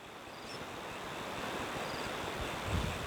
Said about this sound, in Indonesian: Kencang sekali anginnya teman-teman.